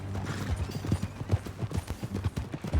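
Horse hooves clip-clop at a steady trotting rhythm in the video game Red Dead Redemption 2, fairly quiet and close, with no voices over them.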